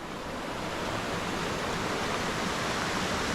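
Continuous broadband roar of Freedom Falls, a waterfall in Venango County, Pennsylvania, heard up close as a steady, even rush of crashing water with no voices.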